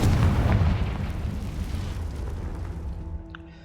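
A Confringo fire spell explosion in the video game Hogwarts Legacy hits with a heavy booming blast, then a rumbling roar fades over a few seconds as faint tonal game sounds emerge, no speech.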